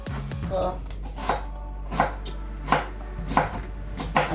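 Close, steady knife chopping of vegetables for a Jamaican vegetable soup, with crisp board strikes arriving about every two-thirds of a second over a constant low hum.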